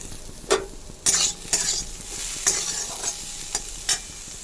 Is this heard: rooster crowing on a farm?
no